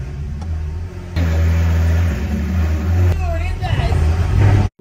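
A rebuilt ex-rental Ferrari accelerates in fourth gear, its engine droning loudly up close with a rising pitch, while someone talks over it.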